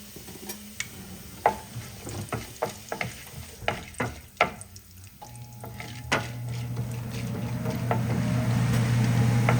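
Cumin seeds and chana dal sizzle in hot oil in a pan, with a series of sharp spoon scrapes and taps as they are stirred, then a steady close-up frying hiss that grows louder toward the end.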